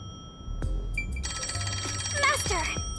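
A phone rings in the video game Master Detective Archives: Raincode, a bright repeating electronic ring with a warbling melodic tone, heard clearly over the game's background ambience.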